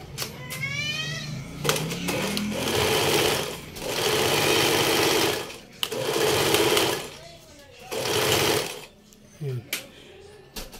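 A sewing machine stitches a buttonhole in four loud, whirring bursts of a few seconds each, separated by pauses. A person talks in the gaps and over the stitching.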